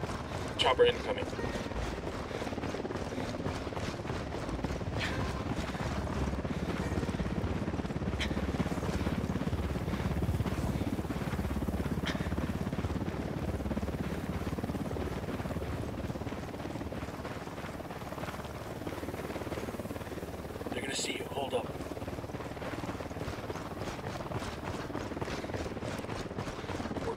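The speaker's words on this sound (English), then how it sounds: "Chopper incoming." A helicopter approaches in Ghost Recon Wildlands, a moderate, steady rotor rumble with wind-like noise running throughout, while voices talk over it.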